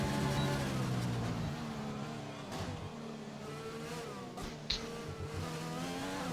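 Race car engine on a flying lap in a racing video game around Mexico, a loud high whine climbing and dropping through gear changes and braking zones, with faint commentary underneath.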